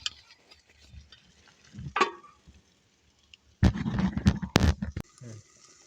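Green beans are stirred as they fry in oil in a pan, with scraping and rattling, followed by a burst of sizzling and clattering utensils, then quieter frying.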